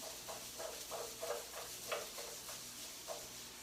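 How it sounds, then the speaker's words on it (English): Sweet potato fries in a pan with a steady sizzle and soft hiss, punctuated by a few brief stirring clicks and scrapes; no voices. "You see how it's already sizzling?"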